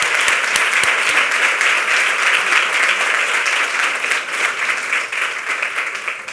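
Audience applause at a women's health alliance presentation, a dense, loud, sustained clapping from a full room that holds steady throughout and eases slightly toward the end.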